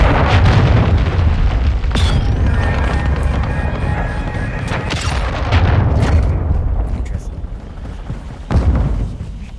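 A cruise missile explosion in Modern Warfare 2 lands as a loud, sustained booming roar with rumbling low end, punctuated by sharp blasts near the start, middle and end, amid continuous battlefield noise.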